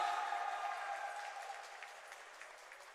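A crowd at a college robot-fighting competition applauds a second-place team, a soft, fairly distant patter of clapping that slowly thins out over a few seconds.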